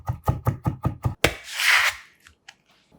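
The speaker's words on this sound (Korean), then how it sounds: "국물에 빠질 수 없는 통마늘 2개는 살짝 굵게 다져서 준비" Knife coarsely chopping two whole garlic cloves on a board, with about seven quick, rhythmic knocking chops, then a short scraping sweep and a couple of faint taps, all close with no voices.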